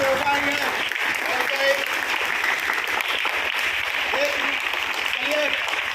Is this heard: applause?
yes